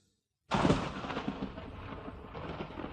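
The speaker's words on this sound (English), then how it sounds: "the noise of thunder" A sudden loud rumbling crash of thunder breaks the silence, then rolls on as a broad, steady roar that slowly fades.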